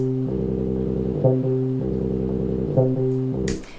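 A clean Behringer TD-3 analog bass synth plays a repeating low sequence of short notes, smooth and undistorted with distortion switched off, ending with a brief click.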